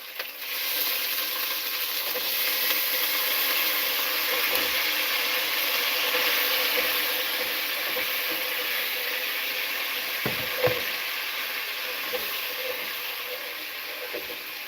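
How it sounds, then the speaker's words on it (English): Meat sizzles and spits steadily in a hot pan, a loud, dense crackle holding from start to finish with a few sharper pops, close by and with no talk over it. "This thing's splatting everywhere."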